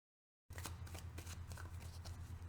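A deck of tarot cards is riffled and shuffled close up, a quick run of soft flapping card sounds over a low steady hum, starting abruptly after a moment of silence.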